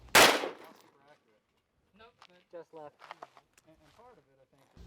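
A single loud gunshot cracks out at a two-gun action shooting match, followed by someone speaking close up in the quiet that follows.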